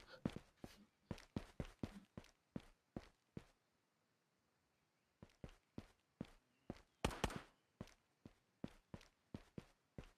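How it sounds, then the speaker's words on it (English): Footsteps in the VR shooter Ghosts of Tabor, a quick run of crisp, regular steps that stops for a couple of seconds and then resumes, close and fairly loud, with no one talking. "Why do I hear footsteps around me?"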